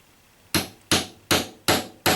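Five sharp metallic hammer taps on a rivet in a leather knife dangler, evenly spaced and close, each ringing briefly before the next strike.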